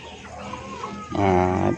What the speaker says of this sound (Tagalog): Ang pagpakain lang sa mga manok at saka pato mga idol